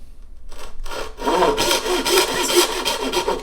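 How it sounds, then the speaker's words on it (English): A thin, curved Japanese pull saw cuts shallowly into wood along an acoustic guitar body, making steady rhythmic rasping strokes that start softly and grow louder and faster, close by with no voices. "this is a really thin curved Japanese saw, it cuts fast"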